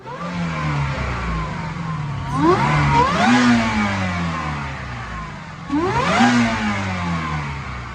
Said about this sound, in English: We're gonna watch a dyno pull.